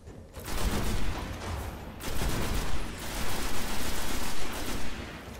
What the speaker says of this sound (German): Die schießen von, ja von überall.